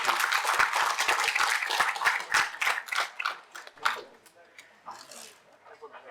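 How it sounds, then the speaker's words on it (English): An audience in a crowded room at an AI school lecture in Nepal gives a round of applause that starts full and dense, then thins into scattered claps and fades as a voice speaks. "With a big round of applause, please welcome Dr."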